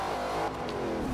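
Car engine revving hard and steady while drifting in the racing game Forza Horizon 2, a loud continuous motor roar with a brief dip midway and no voices.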